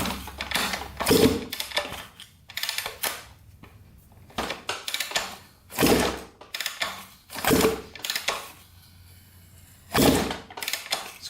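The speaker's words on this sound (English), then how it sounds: "I'll kick this over a couple times." A Kawasaki KX250 two-stroke dirt bike engine with the carburetor removed is kicked over for a compression test: several separate bursts of mechanical churning, each a second or so long, close and fairly loud, with quiet gaps between.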